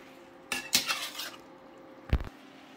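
Spoon or spatula scraping and clinking in a pan while pork adobo is stirred, two short bursts of metallic scraping with a quiet gap between, close and fairly soft.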